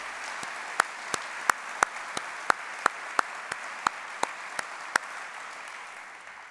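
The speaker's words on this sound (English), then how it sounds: "So how about one more round of applause for those inspiring stories?" Applause at an annual business meeting, a steady wash of clapping from an audience with a few sharp, louder claps standing out at regular intervals, no talk over it.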